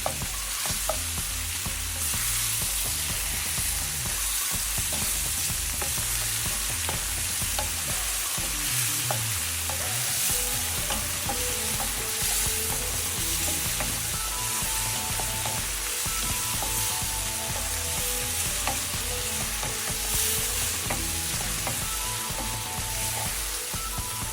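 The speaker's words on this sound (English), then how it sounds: "to saute your shrimp for about a minute or so until it's like almost cooked or cooked" Shrimp sautéing in a pan over medium-high heat for Vietnamese pork thick noodle soup, a loud continuous sizzle and crackle with occasional stirring scrapes, steady throughout and with no voices.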